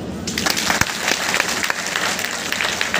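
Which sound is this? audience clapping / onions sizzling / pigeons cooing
audience clapping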